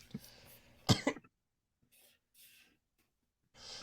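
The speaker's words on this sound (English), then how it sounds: "Oh, bad time for a cough there." A single sharp cough bursts out after a moment of soft talk, followed by near silence with a few faint rustles and breaths.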